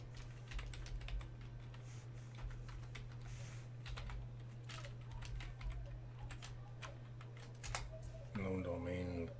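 Rapid, irregular clicks of fingers typing on a computer keyboard, close and fairly quiet over a steady low electrical hum, with a brief burst of voice near the end.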